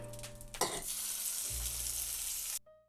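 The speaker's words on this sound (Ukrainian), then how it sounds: "І сюди на сковорідку додаємо ще трошки олії." Loud, steady sizzling of meat frying in oil in a hot pan, with a brief clatter near the start, then the sizzle cuts off abruptly.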